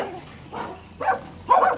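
Dogs barking at an animal shelter in Békéscsaba that houses more than 300 dogs, several muffled barks at uneven intervals, growing louder toward the end.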